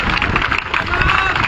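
A large crowd of supporters at a rally at the Shaheed Smarak memorial in Jaipur applauds to welcome a speaker's wife, a thick, continuous roar of clapping mixed with crowd murmur.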